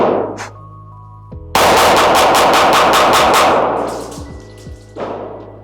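Pistol shots fire from a PSA Dagger Micro frame fitted with a Glock 43X slide and magazine, a rapid string of sharp, loud reports at an outdoor range, close by, with ringing decay and faint clicks before and after.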